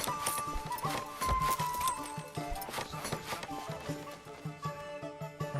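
Horses in the medieval strategy game Manor Lords give off clip-clopping hooves and occasional whinnies, layered with ambient game music in a dense, continuous mix at moderate loudness.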